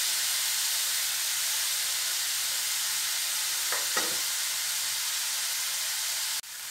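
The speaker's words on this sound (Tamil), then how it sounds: "வெங்காயம் பார்த்திங்கன்னா வணங்கிட்டு இருக்கு" Onions sauté in a pan for a paneer samosa filling, giving a steady, soft sizzle with a couple of brief stirring scrapes and no talk.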